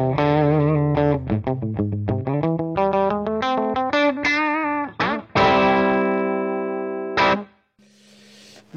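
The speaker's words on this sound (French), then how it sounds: "c'est le son du Baby Bomb avec rien du tout" Vintage electric guitar played through a Mooer Baby Bomb 30 amp with no effects, a quick run of picked notes and bends followed by a long sustained chord, close and clear with no talk.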